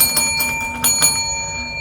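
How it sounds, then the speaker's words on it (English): Reception desk bell at an old hospital struck several times, bright ringing strikes with a sustained metallic tone, close and fairly loud in a quiet room. "hit the bell and I'll be on my way"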